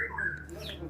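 A white-rumped shama (murai batu) gives short, bright chirps and whistles, with someone speaking Indonesian over the calls and a low hum underneath.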